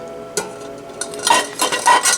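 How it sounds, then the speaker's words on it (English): Metal utensil clinking and scraping against a big pot as boiled eggs are lifted out, with a few sharp clanks and short scrapes toward the end, close and fairly loud. "I'm taking eggs out of the big pot,"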